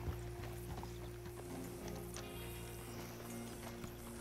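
Steady clip-clop of horse hooves at a trotting rhythm over a low hum in the video game Red Dead Redemption 2, fairly quiet, with no voices.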